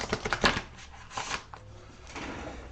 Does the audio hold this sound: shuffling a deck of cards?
yes